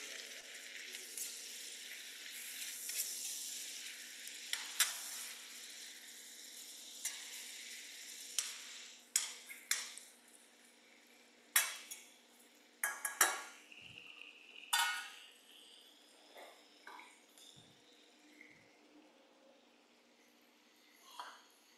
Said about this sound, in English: So I'm continue roasting my bones.